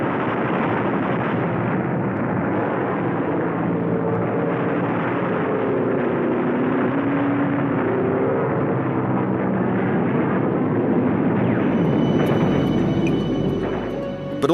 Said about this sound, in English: Rocket-firing Typhoon fighter planes cut a path for them.